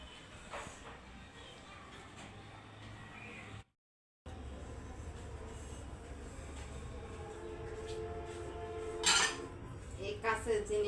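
Washed glass dishes handled and wiped with a dry cloth at home, soft clinks and rubbing with a few sharp glassy clinks near the end, over a low steady background hum.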